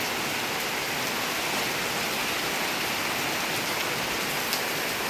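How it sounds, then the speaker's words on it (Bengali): Steady, dense heavy rain pours without a break in Bangladesh, a loud broadband hiss filling the whole stretch with no voices. "প্রচুর বৃষ্টি অনেক বৃষ্টি"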